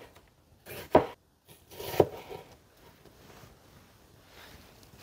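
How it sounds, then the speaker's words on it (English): A kitchen knife thinly slices half a red onion on a cutting board, with a few distinct sharp cuts and soft scraping amid quiet background noise. "Here I have half of a red onion and I'm going to slice it thinly as well"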